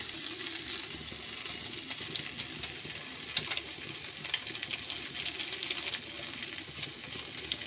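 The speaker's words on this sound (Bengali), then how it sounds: "পাস্তা মশলা দিয়ে হালকা 1 মিনিট নাড়িয়ে চাড়িয়ে নামিয়ে নিই" Pasta with pasta masala stirred in a pan over low gas, a soft, steady sizzle with light scraping and small clicks of the spoon, fairly quiet and with no talk.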